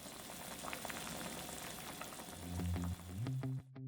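A pot of kohlrabi soup broth simmering on the stove: a quiet, steady bubbling hiss that rises near the end with a few brief clinks before cutting off to silence.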